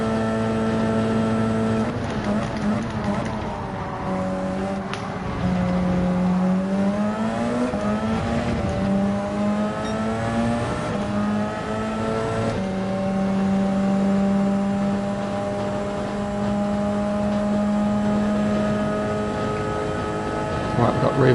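A 787 race car in Gran Turismo 7 passes by, its engine a sustained, steady drone with shifting pitch that swells and falls across the pass, loud and continuous throughout.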